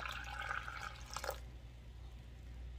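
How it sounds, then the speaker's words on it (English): Water poured into an Instant Pot with a pork roast, a faint trickling splash for about a second that stops abruptly, leaving quiet background hum. "I'm gonna add just a little bit of water"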